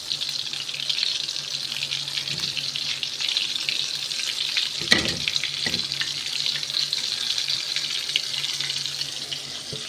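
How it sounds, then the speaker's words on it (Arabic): Onions fry in medium-hot oil with a steady, bright hissing sizzle throughout, plus a brief clatter partway through. "البصله اهي بتتحمر"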